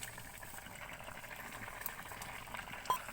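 A pot of thin Bengali vegetable curry with potato, ridge gourd, eggplant and gourd stems boils steadily, a soft continuous bubbling and simmering hiss at close range with a small clink near the end and no talking.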